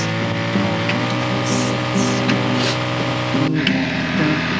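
A neglected Yamaha ATV, just brought back to life, runs at a steady idle up close, its engine hum even and continuous with a brief dip partway through.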